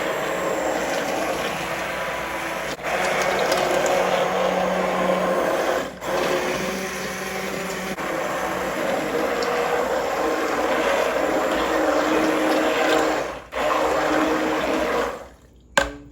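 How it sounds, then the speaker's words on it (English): An immersion blender pureeing potato leek soup right in the pan, a steady close whirring drone with a wet churning texture that runs almost unbroken, with a few brief dips before it cuts off at the end. "That's why I love this immersion blender, because it's just so easy."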